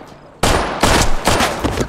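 Gunshots from a film scene, where someone is shot in the body, start abruptly after a quiet moment and continue as a loud rapid burst of sharp reports with no talking.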